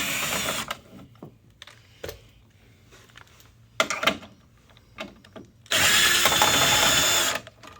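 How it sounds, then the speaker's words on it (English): A Black & Decker power drill whirs in two loud, close bursts, one brief at the start and a longer steady run near the end, separated by quieter handling clicks and knocks. "And then you have your drill, Black & Decker."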